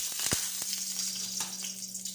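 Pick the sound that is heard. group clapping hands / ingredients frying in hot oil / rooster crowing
ingredients frying in hot oil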